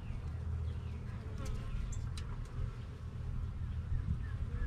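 Honeybees buzz continuously in a triple-decker hive during a first spring inspection, a dense close hum of many bees with occasional faint clicks from handling frames.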